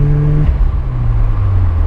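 Engine and turbo of a 1991 Mazda RX-7 FC Savanna Turbo II heard from inside while driving, a loud rotary drone whose pitch drops after a shift, with no talking.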